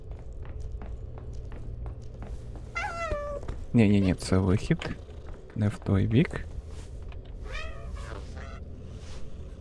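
In the DDoD video game playtest, a cat meows several times in drawn-out, wavering calls, loud and close, mixed with footsteps, while someone talks between the meows.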